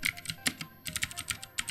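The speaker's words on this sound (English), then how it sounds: "These are Cherry MX Blues sitting beneath the Ducky Mecha Mini. Tactile and really clicky." Fast, clicky keystrokes from Cherry MX Blue switches on a Ducky Mecha Mini keyboard sound up close as a quick irregular burst of sharp clacks with short gaps.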